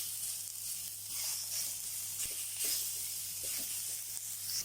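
Tomato and vegetables sizzle in a pan while being sautéed for mutton broccoli soup, a steady frying hiss with occasional soft pops, close and continuous.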